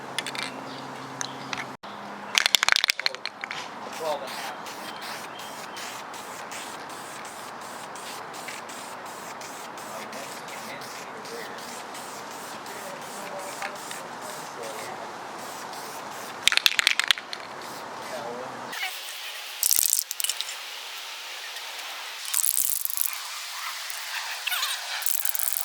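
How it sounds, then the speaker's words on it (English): A spray paint can hisses in a long, steady blast while coating a Honda Civic D16 valve cover with wrinkle paint, followed by a few shorter sprays and clicks near the end. "And now we're just going to spray 3 coats of this."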